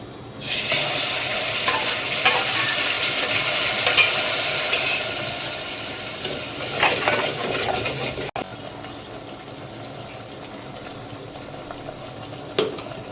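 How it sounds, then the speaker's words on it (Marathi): Spice paste sautés in a tablespoon of oil for a spicy mutton paya curry. A busy sizzle and scraping stir run strongly at first, then fall to a quieter simmering hiss after a sharp knock. "आपण एकच टेबल स्पून ऑइल टाकलं त्याच्यामध्ये हे जे आपले पेस्ट आहे ती आपण परतून घेणार आहे"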